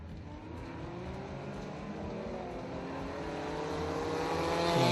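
Ministock race cars on a track make a continuous engine drone that swells steadily as they approach, fairly distant and without talk.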